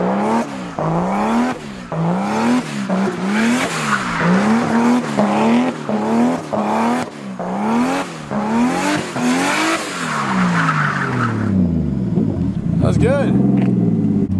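A manual car on a drift track spins donuts with its engine revving high in repeated surges, its tires squealing loudly and continuously before it winds down at the end.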